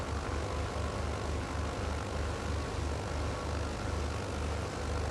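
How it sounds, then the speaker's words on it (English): A starboard piston aircraft engine in Microsoft Flight Simulator runs loud and continuous, a dense droning roar over a steady low rhythmic throb, with no voices. "second one, start the starboard engine"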